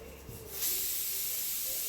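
A pressure cooker cooking wheat for payasam lets out a steady, close hiss of escaping steam that starts partway through and continues to the end, with no voices.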